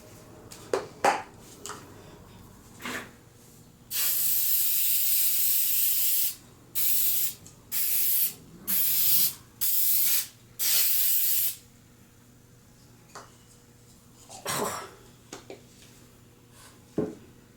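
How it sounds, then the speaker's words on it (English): A long continuous hiss of spray adhesive from an aerosol can, followed by six short bursts in a steady rhythm, close and loud, with light handling noises around. "And I'm going to spray this."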